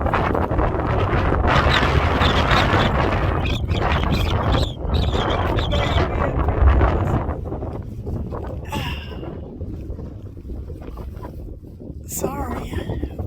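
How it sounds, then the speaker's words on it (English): Strong wind gusts across a mountain trail, rumbling and buffeting the microphone in a loud, continuous roar that eases somewhat toward the end, with a person talking over it. "it is gorgeous. And it is windy."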